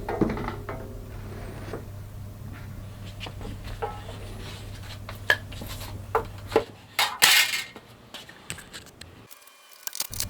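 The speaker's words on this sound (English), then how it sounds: "Taking out all of the screws and disassembling all the pieces that I no longer need." Screws being taken out and table saw parts disassembled by hand: scattered metallic clinks, scrapes and knocks of hardware and pieces being handled, close by and irregular, with a few louder clatters near the end.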